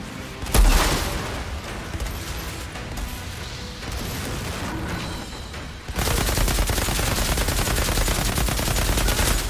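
Gunfire in the shooter game Outriders: a sharp loud shot early on, then a stretch of scattered firing and battle noise, before a dense, continuous burst of rapid shots fills the last few seconds.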